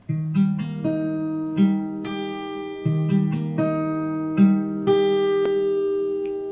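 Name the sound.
fingerstyle guitar playing a song intro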